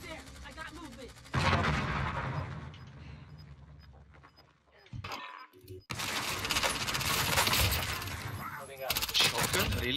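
Gunfire in Call of Duty Warzone around an AK47 loadout: loud bursts of shots and impacts arrive in clusters with a brief quiet gap between them, and a voice talks over parts of the fighting.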